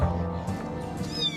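Domestic cats at a sterilization clinic meow loudly and close by, with several overlapping calls and a rising whine near the end.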